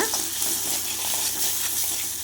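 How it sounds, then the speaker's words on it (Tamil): Onion and garlic frying in oil for a pepper, tomato and greens chutney, giving a continuous bright sizzle with soft stirring, close and fairly loud, with no voices. "இந்த வெங்காயம் பூண்டு இதெல்லாம் எண்ணெயிலேயே வணங்கணுங்க"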